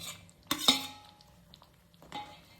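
Paneer cubes dropped into masala in a pan at home, with two sharp utensil clinks close together and another scrape-and-clink a moment later, no talking.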